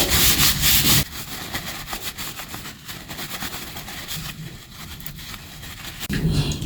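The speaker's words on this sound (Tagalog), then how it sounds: "bago tayo mag-test, punasan muna natin ito." A cloth rubs a steam bath machine part clean before leak testing, making a close, continuous scrubbing swish with uneven strokes, and a louder rush of noise at the start and end.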